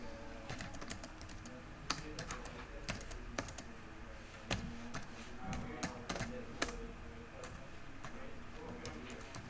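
Rapid typing on a computer keyboard in a lecture room, a fast, uneven stream of sharp clicks with occasional louder key strikes, steady throughout under faint room noise.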